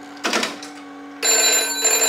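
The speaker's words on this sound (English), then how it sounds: "it needs to send forward ringing current to ring the bell" Telephone bell rung by ringing current from a Strowger step-by-step exchange, a tone and brief clatter followed by a loud, continuous metallic ringing that starts abruptly and carries on to the end.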